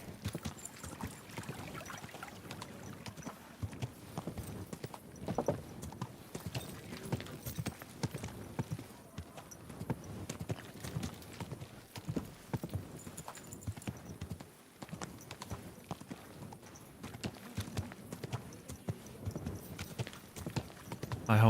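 In a video game, horse hooves clip-clop in a steady walking rhythm, fairly faint and continuous, with soft ambient noise around them.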